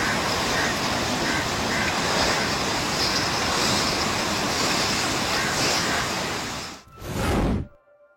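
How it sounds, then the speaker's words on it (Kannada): Roaring floodwater from rain-swollen rivers in Karnataka, such as the Tunga, Bhadra, Hemavathi and Kaveri, gives a steady, loud broadband rush for about seven seconds, then breaks off with a short final surge before cutting to silence. "ತುಂಗ, ಭದ್ರಾ, ಹೇಮಾವತಿ, ಕಾವೇರಿ ಭೋರ್ಗರೆತ"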